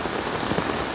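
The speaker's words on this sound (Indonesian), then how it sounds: "Jadi semua air jatuh ke situ pas hujan" Rain falling steadily into a biopori infiltration hole in waterlogged, saturated ground, heard as a dense, continuous patter of drops close by with no pauses and no talking.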